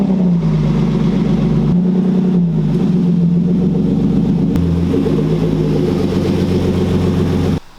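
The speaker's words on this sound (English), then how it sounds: "let's pull the M3 out of the garage and we'll get these wheels on" BMW E36 M3, running rich, pulls out of a garage with a steady low engine drone and small throttle changes, close by and continuous with no talking, cutting off at the very end.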